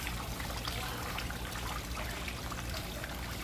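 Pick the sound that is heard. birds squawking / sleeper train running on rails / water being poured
water being poured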